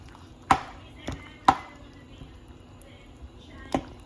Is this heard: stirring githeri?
yes